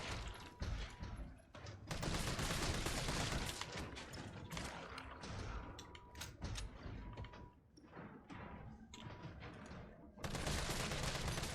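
Gunfire in the Resident Evil 3 video game: rapid, repeated shots in dense clusters, with mechanical clanks and game effects between them.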